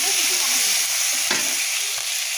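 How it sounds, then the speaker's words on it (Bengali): Onion, with chilies, fries in a pan just used for frying fish: a close, continuous sizzle with a brief stirring scrape partway through, and no speech. "পেঁয়াজ ভাজা হইতেছে।"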